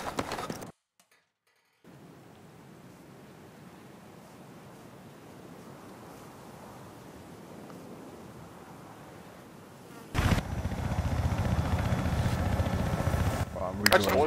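A helicopter in a video game gives a steady, buzzing rotor drone that holds at moderate level for about eight seconds, then swells louder and rougher near the end.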